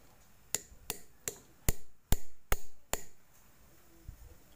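Seven sharp metallic hammer blows on a D8 tractor engine crankshaft part, struck at a steady rhythm about every half second, each with a short ringing decay, followed by quieter workshop clatter.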